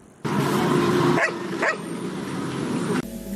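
Dogs bark at a dog training camp in Yaoundé, a few sharp barks rising out of steady, dense background noise close to the recorder.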